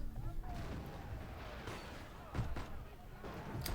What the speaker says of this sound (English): Gunfire and the sound of tables and chairs getting knocked over intermingle